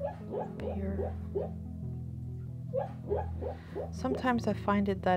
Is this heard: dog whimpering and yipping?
yes